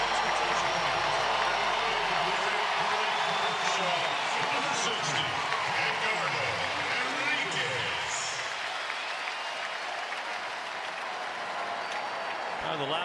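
A huge stadium crowd roars and applauds throughout a Giants–Dodgers baseball game at Dodger Stadium, a dense sustained wall of cheering that swells and holds, with an announcer's voice faintly audible over it.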